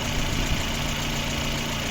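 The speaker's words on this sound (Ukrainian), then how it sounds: "Двигун працює хорошо" Lada Granta engine idling on petrol while hot with the coolant near boiling, a steady low rumble held close and continuous with no voices over it.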